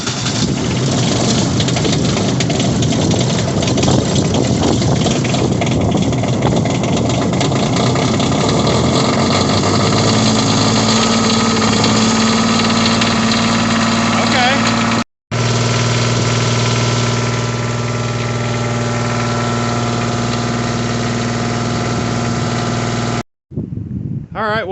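A diesel engine welder, glow plugs used in below-zero cold, cranks and then idles loud and close, with a steady low drone and rough rumble, cut off by a brief break before settling into a continuous idle.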